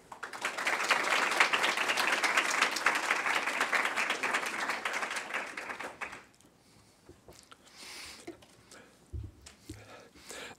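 A university lecture audience welcomes a guest professor with steady applause, dense and loud for about six seconds before it fades into scattered claps and quiet room noise.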